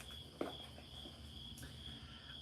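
Faint, steady cricket chirping runs through a background soundtrack as a continuous high trill, low in level, with a soft knock near the start.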